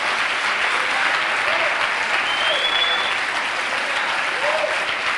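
An audience at a church seminar applauds steadily and loudly, a thick continuous wash of clapping with a few faint cheers, while a voice briefly speaks under it.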